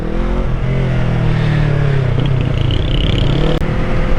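A Yamaha R25 motorcycle accelerates through traffic, its engine note rising and falling loud and close, with steady road and wind noise throughout and no talk.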